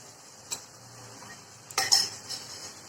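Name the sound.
eggs added and stirred into boiling egg curry gravy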